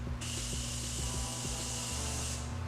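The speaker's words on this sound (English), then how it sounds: "I'm just gonna spray my face before I put on highlighter" Face setting spray is applied in one long, continuous hissing mist lasting about two seconds, close and loud over a low mechanical hum with faint ticking.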